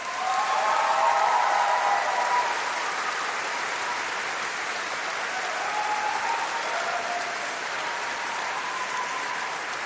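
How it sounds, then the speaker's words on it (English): A large graduation ceremony audience at a College of Arts and Law degree ceremony gives sustained, even applause for tutors and lecturers, a dense wash of clapping lasting about ten seconds with little talk. "can graduates and everyone please give them a big round of applause as well?"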